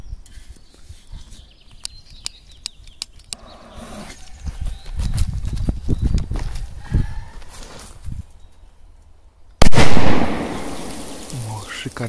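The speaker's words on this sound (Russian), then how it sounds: "О, шикарный взрыв." Scattered small pops and crackles give way to one sudden loud firecracker bang near the end, followed by a fading rumble.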